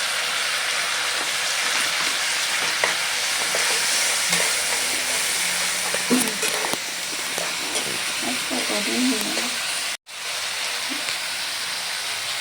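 Cumin, ginger, green chilli and chilli powder fry in a pan with a steady hissing sizzle, joined by stirring and light clatter, while someone talks over it.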